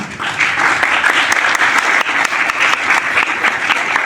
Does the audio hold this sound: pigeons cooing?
no